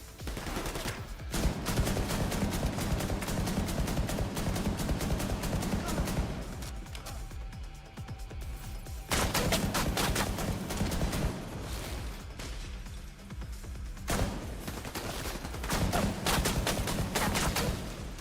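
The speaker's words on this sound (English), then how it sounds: "Oh, shooting at me." Sustained bursts of rapid gunfire from enemies shooting at the player during a video game Abyss mission, loud and dense, broken by brief lulls before volleys resume.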